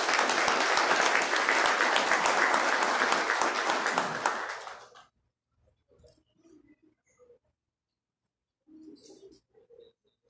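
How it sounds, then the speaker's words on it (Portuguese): Applause fills a solemn session of the Humaitá municipal council during an honorary citizen award ceremony, steady clapping from the audience for about five seconds before fading into near silence with faint scattered sounds. "Uma salva de palmas, por favor."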